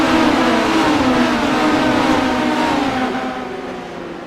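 Speedway race car engine steadily droning at mid pitch as the car drives into the pits at an Australian Speedway League championship round, a sustained continuous rumble that fades slightly toward the end.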